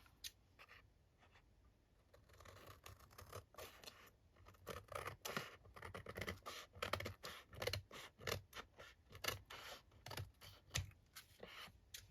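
Paper being cut by hand with scissors for a junk journal, a quiet run of repeated snips and scraping strokes that grow busier midway, close up with no talking.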